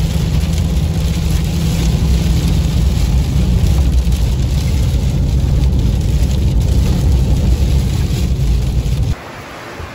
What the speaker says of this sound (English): Well, it is really raining now.